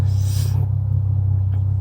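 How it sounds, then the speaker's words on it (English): A Ford Mustang engine idling from inside the car, giving a steady, deep low rumble that holds constant throughout with no talking. "The engine is running."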